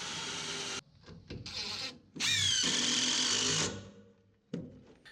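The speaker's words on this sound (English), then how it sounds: "drill through them and then install the screws to fasten the" A high-pitched power drill motor whines in bursts, stopping and starting, with one long sustained run in the middle as it bites through a boat fuel tank bracket.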